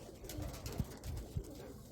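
A high-quality pigeon cooing softly in two low, brief coos, faint and close, over a quiet murmuring background.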